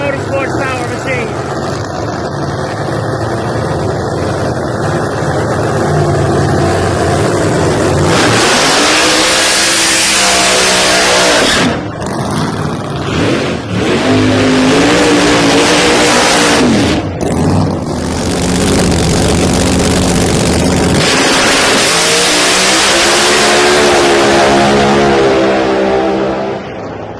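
Pro Mod drag race cars, including a G-Force car, blast down a dragway in a qualifying round, long roaring engine bursts that rise and cut, with an announcer talking over parts of the run.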